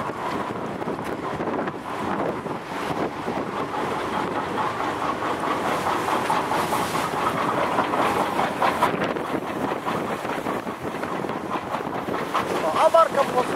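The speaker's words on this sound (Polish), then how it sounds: "a barka podsuwa się na takich łańcuchach, które są przyciągane" Chain ferry barge hauled along on chains, a steady low rumbling and clanking drone with wind buffeting the microphone, and voices faintly audible beneath.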